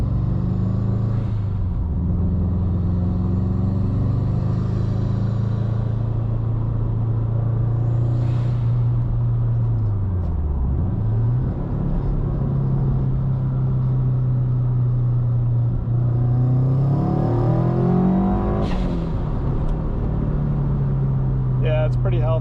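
Subaru STI with adjustable cam gears pulling hard through third gear from the cabin, a loud steady engine drone that dips briefly and then climbs as revs rise, continuous throughout.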